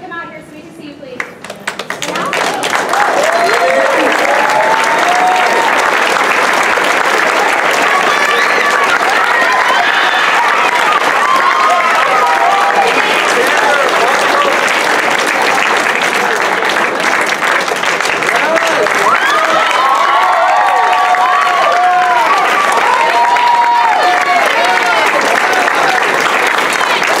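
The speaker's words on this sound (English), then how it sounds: "Let's give them a round of applause" Sustained audience applause fills a school auditorium after a middle school's Legally Blonde Jr. musical performance, dense and steady for most of the stretch with scattered cheers and whoops rising above the clapping.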